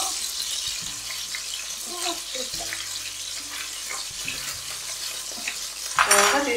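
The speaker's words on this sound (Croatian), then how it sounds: "I sve će se to onako lijepo ispržiti." Chicken pieces frying in hot oil in a pan give a steady hiss and sizzle, broken by a few light clinks of utensils and a brief louder burst near the end.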